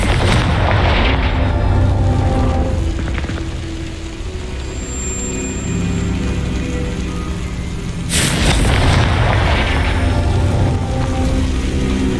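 Confringo fire spells explode in the Hogwarts Legacy game, giving a long stretch of roaring, crackling rumble broken by a sharp burst early on and a second heavy blast later.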